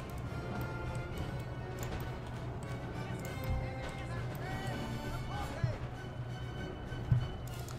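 Cavalry horses move across a Napoleon: Total War battlefield: a steady patter of hoofbeats and occasional whinnies sit within a dense, continuous battle ambience, with a voice talking over it.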